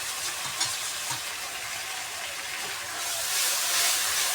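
Food fries in a wok in a home kitchen, giving a soft, steady sizzle with faint stirring scrapes, growing slightly louder toward the end, with no talking.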